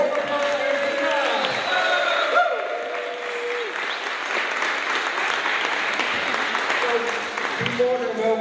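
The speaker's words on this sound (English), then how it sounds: "And a warm applause for Indira." A live audience at a Ruigoord cultural gathering breaks into sustained, warm applause, dense steady clapping filling the room for several seconds with a few scattered voices underneath.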